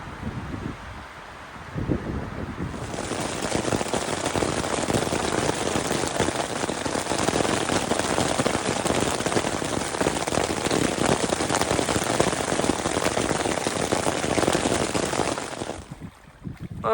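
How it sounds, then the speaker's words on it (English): Heavy rain pounds a tent at a lakeside campsite during a sudden storm, a dense continuous roar of drops with gusting wind that starts after a quieter opening and holds loud and steady before cutting off near the end. "Well, we survived the storm."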